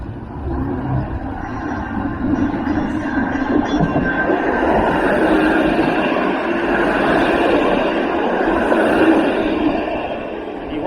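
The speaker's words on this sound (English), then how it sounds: "the streetcar comes pretty close to the edge of the lane" A Toronto streetcar rumbles past close by on Dundas Street West, a loud sustained rolling drone with metallic rail noise that swells and holds for several seconds.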